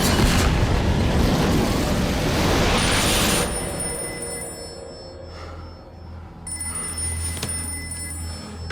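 A telephone rings with steady, high electronic tones that emerge after a loud, rumbling burst of noise, the ringing continuing clearly to the end.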